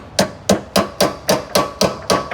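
A small hammer taps a nylon drawer glide button into place with eight evenly spaced, sharp, close knocks about a quarter second apart, alone with no talk.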